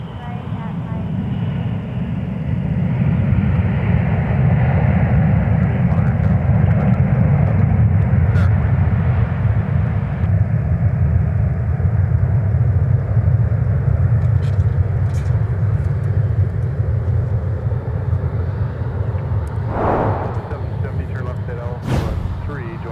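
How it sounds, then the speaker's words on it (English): A Delta Airbus A321-200 airliner arriving from Phoenix, a loud sustained rumbling roar from the jet that holds steady and then slowly eases off, heard close with faint background noise. "Instant replay of our arrival from Phoenix with the A321"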